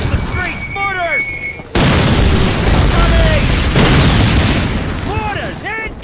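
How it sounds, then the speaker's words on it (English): Mortar rounds in a Call of Duty World War II street battle against German troops: whistling incoming shells and two heavy, near, loud booms whose roaring rumble fills the scene. "Mortars incoming!"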